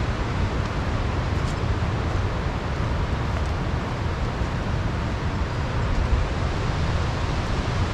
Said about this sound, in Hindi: उस तरफ मेरा ख्याल है पानी बह रहा है, पानी की आवाज़ आ रही है